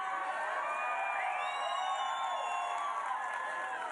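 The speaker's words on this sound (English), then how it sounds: "Look at this crowd." A large rally crowd cheers and whoops continuously in a big arena, a dense, sustained roar of many voices with no gaps.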